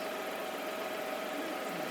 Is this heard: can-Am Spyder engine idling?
yes